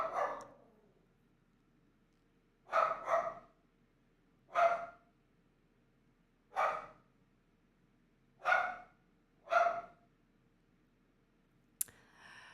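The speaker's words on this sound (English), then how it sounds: "There was another dog barking." Another dog barks in six sharp, fairly faint single barks spaced a second or two apart over a low steady background hum, ending with a brief click.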